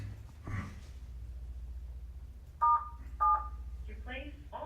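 Two short, loud touch-tone beeps on a telephone conference line sound a fraction of a second apart, set between faint, low-level speech on a quiet phone connection.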